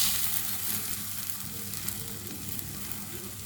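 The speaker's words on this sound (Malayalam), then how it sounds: "ഈ മുട്ടയൊന്ന് ഇതേപോലെ റൗണ്ടായിട്ടൊന്ന് ഒഴിച്ചു കൊടുക്കുക" Beaten egg poured in a round over vegetables frying in a pan, giving a continuous close sizzle that starts stronger and settles to a steady hiss, with no voices.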